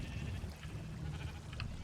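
Sheep bleating in Minecraft, a few short game bleats rising over a low steady rumble of background noise, with no talk.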